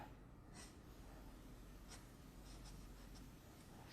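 Faint, steady scratching of pencil strokes on paper while drawing the anime character Rem, with a few brief, slightly sharper strokes standing out over a soft continuous hiss.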